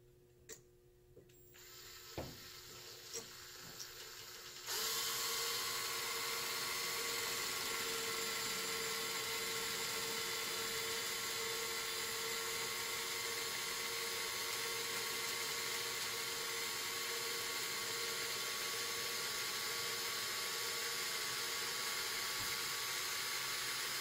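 A drill bores a bleed hole in a Race Tech Gold Valve mid-valve held in a vise. Steady high-pitched whine runs loud and constant after a few soft clicks and taps.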